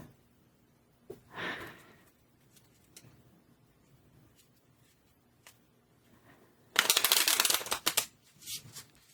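A Lenormand card deck is shuffled close up: a soft riffle early on, some light handling and faint breaths, then a loud, crisp stretch of rapid card shuffling near the end.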